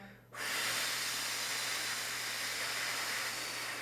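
A long, steady exhale of air during a breathing exercise, a close, breathy rush of air that starts abruptly and continues evenly to the end, heard alone.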